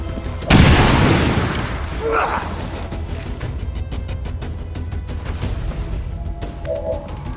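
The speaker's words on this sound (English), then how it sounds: "Throwing grenade!" A grenade explosion in XCOM 2: War of the Chosen hits as one loud, close boom, then fades into a rumbling, crackling tail under steady game ambience, with a brief voice shortly after.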